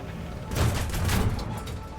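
In a video game, gunfire strikes a Martlet Mk IV fighter plane as a dense, rumbling burst of rapid impacts lasting about a second over a steady background roar.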